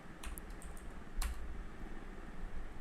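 Brief bursts of keystrokes on a computer keyboard while writing code, a few scattered clicks up close with a louder cluster near the middle, then a quiet stretch of room hum.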